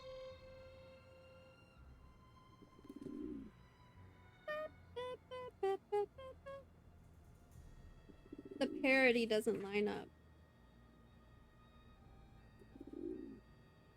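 Soft, low pigeon coos from the Nancy Drew game The Phantom of Venice: one brief coo early on and another near the end, with a person talking in between over a quiet ambient background.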